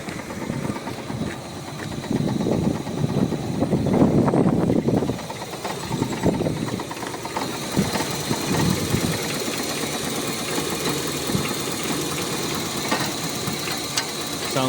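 A Toyota MR2 Mk3 Roadster engine idles steadily after a Walbro fuel pump was fitted, a close, even mechanical hum with faint ticking and some brief handling noises early on, and no talking.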